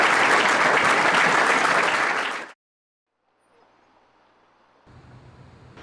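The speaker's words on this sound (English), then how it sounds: "How about a round of applause for our speaker?" Audience applause for a speaker at an Illinois state government event, dense and loud clapping from many hands that cuts off abruptly after about two and a half seconds, leaving near silence and then faint room noise.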